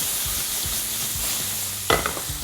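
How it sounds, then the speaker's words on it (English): Butter melting and sizzling in a hot pan with steaks, the heat just turned off, giving a continuous close frying hiss and a sharp clink of a utensil near the end. "I'm going to turn the heat off and I'm going to add a nice knob of butter"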